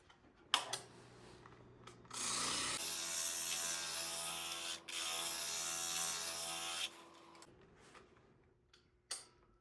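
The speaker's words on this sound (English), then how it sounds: "it over to the flap wheel sander and clean that edge up, edge it" A loud, steady grinding whir of a flap wheel sander running against the edge of a leather holster for several seconds, with quieter handling noises before and after.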